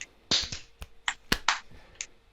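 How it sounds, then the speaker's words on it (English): Body percussion of chest taps, finger clicks and hand claps at a kids' club session, sharp separate snaps and claps in a loose repeating rhythm, close and fairly quiet. "Chest, click, clap, clap, click."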